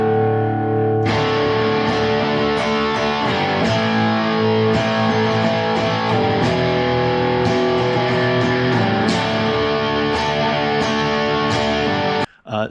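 Electric guitar played through a Turbo Rat distortion pedal, sustained fuzzy chords ringing thick and saturated for several seconds with occasional pick attacks, close and upfront, cutting off abruptly near the end.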